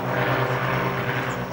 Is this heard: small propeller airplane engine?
yes